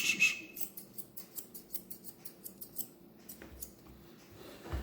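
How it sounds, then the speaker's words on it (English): Grooming scissors trim the front leg fur of a Bichon dog in a quiet room, about a dozen quick crisp snips in a steady rhythm, close and fairly soft, with faint rustling between cuts. "Scissors only."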